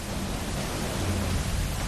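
Swollen rivers roar after heavy rain in the Pithoragarh region, a dense, steady broadband rush of floodwater filling the whole clip without pause or voices.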